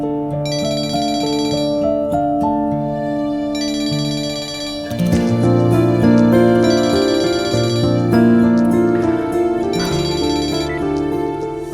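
A mobile phone ringtone plays an electronic melody in repeating bursts. It is loud and close, with a fuller second phrase, and no one speaks over it.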